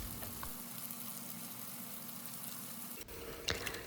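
Tempering spices frying in hot oil for a jowar roti meal, a steady close sizzle throughout with a brief clatter near the end.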